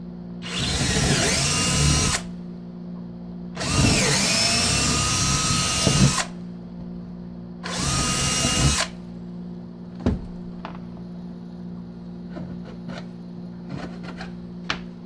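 A power drill with a 3/16 bit bores holes while bench mounting an Edge Pro Apex sharpener, running in three loud, sustained bursts of about two seconds each, followed by quieter clicks and handling noises nearby.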